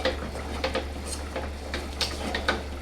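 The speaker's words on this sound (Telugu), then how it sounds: "చూడండి, ఇట్లా వేడి మీదనే కలిపేసుకోవాలి" Ragi flour being stirred into sangati in a pot on a low stove flame: a steady run of scraping, tapping utensil strokes against the pot over a low constant hum, with no voice.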